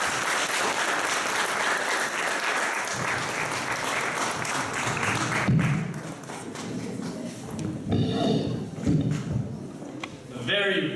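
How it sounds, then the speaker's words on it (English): An audience bursts into sustained applause after a poetry slam performance, dense clapping that thins out into scattered claps and movement noise. "Can we give another round of applause for her?"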